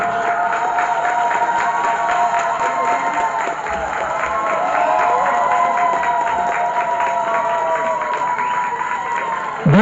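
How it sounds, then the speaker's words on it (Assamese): Long, steady applause with crowd cheering and high ululation from an audience at a book launch during a district literary society's golden jubilee festival, loud and continuous throughout. "এতিয়া আপোনালোকৰ পৰা দীঘল হাত চাপৰি আৰু উৰুলি জোকাৰ"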